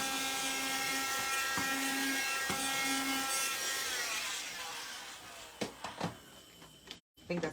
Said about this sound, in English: I need my little vacuum.